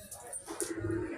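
A racing pigeon arrives at its loft after a 110 km flight and gives a soft, low cooing among faint flutter and chirp-like sounds, quiet and brief.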